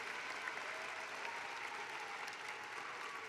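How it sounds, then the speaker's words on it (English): Graduation commencement audience applauding: steady, dense clapping from a large crowd, continuous and even throughout with no breaks. "please hold off on your applause until the end of the next set of introductions"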